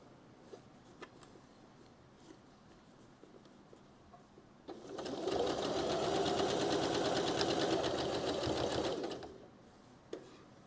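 A sewing machine stitches rainbow quilt blocks together, running steadily for about four seconds at a close, even pace before stopping, with faint room sounds before and after.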